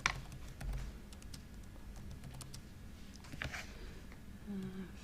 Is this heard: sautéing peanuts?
no